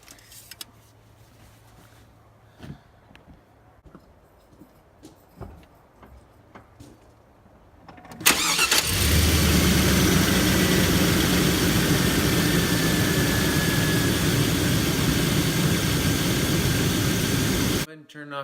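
After a few quiet clicks, a car engine starts abruptly and runs steadily at idle for about ten seconds before cutting off.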